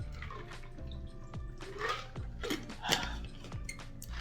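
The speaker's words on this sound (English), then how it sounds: "Let me drink some water before we get started." A few sips of water drunk from a glass or bottle, with soft liquid and swallowing sounds close to the mic under a faint background hum.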